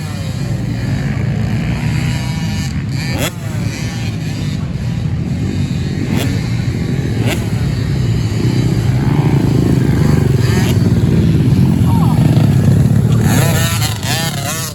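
A 65cc motocross bike is ridden around a dirt track, its thin two-stroke engine buzzing and rising and falling steadily at moderate distance, with people talking over it.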